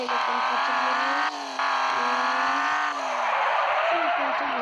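A video game car engine revs and whines in rising and falling tones, and a long tire skid sets in near the end, loud and close with no voices.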